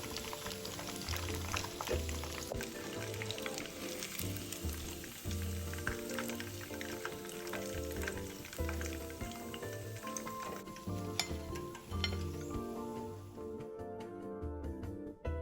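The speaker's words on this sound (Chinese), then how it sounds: "鸡块油炸至视频中看到这色泽，即可沥干油分捞出。" Chicken pieces deep-frying in hot oil for Szechuan spicy chicken, a steady dense sizzle and crackle running throughout at close range, with no talking.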